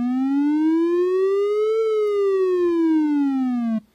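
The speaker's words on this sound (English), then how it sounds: "it's basically just a sweep tone going from A, going up to the A an octave above and back down again." Pure synthetic sweep tone gliding smoothly from A up an octave and straight back down, one continuous rise and fall lasting about four seconds, loud and alone before cutting off abruptly.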